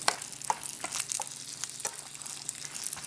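Two garlic cloves and a chunk of onion fry in oil for a red chile sauce, giving a soft, steady sizzle broken by a few sharp crackles and pops, close by with no talking.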